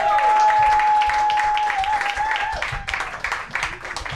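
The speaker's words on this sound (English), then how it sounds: "start clapping right now for your first battler" Sustained audience clapping and cheering at a live roast battle comedy show, a dense, loud wash of applause that thins slightly toward the end, with a steady tone running beneath it.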